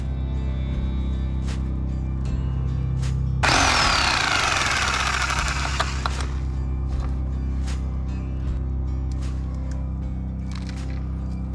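A loud burst of jackhammer pounding on rock in an opal mine lasts a few seconds, then stops, leaving a steady engine drone and scattered knocks.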